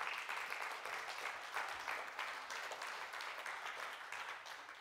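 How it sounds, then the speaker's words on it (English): A church congregation claps for the Lord after a sermon, a steady, dense wash of many hands at a fair distance that fades slightly toward the end. "give the Lord another hand clap"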